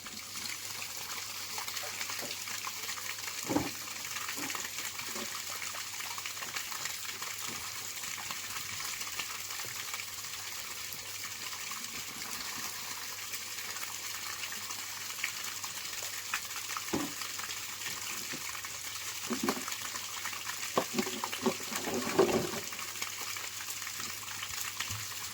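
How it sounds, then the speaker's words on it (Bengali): Water runs outdoors into a drain beside a cleared grassy patch, a faint, steady trickle that carries on throughout with a few small splashes and no talking. "আর এদিকে নালায় জল যাওয়া শুরু করে দিয়েছে"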